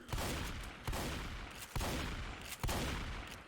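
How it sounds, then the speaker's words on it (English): Heavy gunfire from a multiplayer tournament match in a video game, coming in four loud, dense bursts about a second apart, each one decaying into a rolling echo. "A machine gun?"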